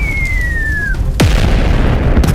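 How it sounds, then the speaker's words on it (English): Cinematic WWII artillery effect for a toy soldier battle: a descending shell whistle followed by a heavy boom, then a sustained rumbling barrage and a second sharp whistle-crack near the end. "The Soviet god of war, the artillery opened the battle"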